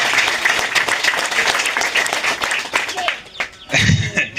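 A congregation at a church gathering breaks into lively rhythmic clapping that stays loud for several seconds, then fades as a voice speaks over it.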